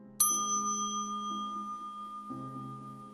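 An elevator bell chimes in a horror radio story, a clear two-tone ding-dong with a bright ringing strike followed by a lower second tone, alone and quiet.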